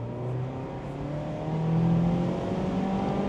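A 2024 Mazda MX-5 roadster accelerates at full throttle, its engine note rising steadily as revs climb through the gear, loud and continuous from inside the cabin with no talking.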